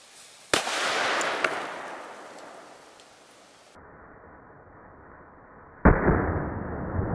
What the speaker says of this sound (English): I've got the exact same type of firecracker centered under this bag of water.